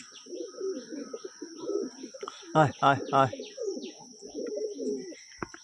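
Pigeons in a loft give a short burst of three or four low coos, with chirps and a man calling to the birds around them, and a steady high whine in the background.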